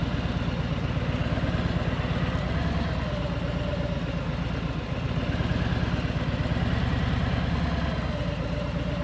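A motorcycle engine running at a steady, throbbing low pitch as a rider engages the clutch and rolls on the throttle, close and continuous with a brief dip midway.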